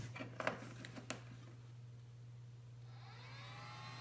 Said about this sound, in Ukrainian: Пішли вентилятори. Запустився інвертор, ось напруги піднялися.